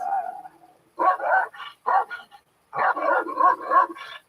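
Dogs barking in short bursts of rough woofs and yips, loud and close, firing in two clusters separated by a brief gap, with a faint whimpering tone at the start.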